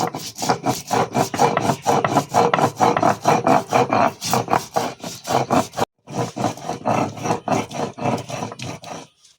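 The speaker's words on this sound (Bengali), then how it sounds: "আর এগুলো এখন সর্ষে পোস্ত এগুলো এখন একটু বেটে নেবো শিলে" Mustard seeds are ground by hand on a stone grinding slab, a close, rhythmic rasping scrape of quick back-and-forth strokes that pauses briefly near the two-thirds point before resuming, with no talking.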